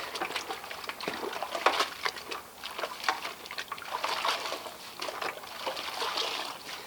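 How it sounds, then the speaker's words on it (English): A car wash mitt is rinsed out in a rinse bucket of soapy water, giving steady trickling, splashing and sloshing at close range over several seconds with no talk. "I'm going to just rinse out my mitt real quick."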